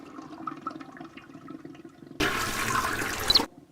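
A toilet flushes in the video game Deponia, a sudden loud rush of water that lasts about a second and cuts off abruptly, after faint background sounds.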